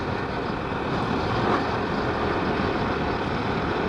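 A motorcycle rides along a breezy road through forest, its steady engine drone and wind rumble loud and continuous, with no talking.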